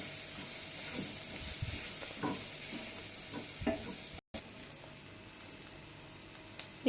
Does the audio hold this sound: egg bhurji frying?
yes